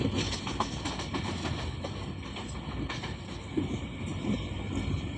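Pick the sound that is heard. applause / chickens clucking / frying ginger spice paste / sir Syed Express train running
sir Syed Express train running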